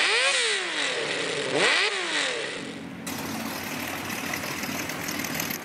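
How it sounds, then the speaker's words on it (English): A Honda CBX 1000 six-cylinder motorcycle engine revs up and down twice in smooth rising and falling sweeps, then settles into a steady, busy idle-like hum, heard close and alone. "The Honda CBX 1000."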